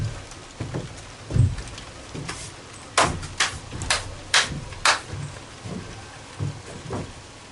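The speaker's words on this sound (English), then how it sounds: "Rain's coming down kind of hard now" Hard rain pours down steadily on a Bertram 25 boat under restoration in Greece, a dense hiss scattered with sharp, loud drip and knock impacts, with no one talking.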